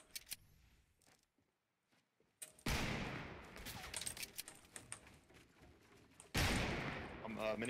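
Minigun fire in Fortnite Battle Royale, sustained bursts of rapid gunfire starting loud and dense partway through, cutting briefly then resuming, with quieter scattered game sounds before it.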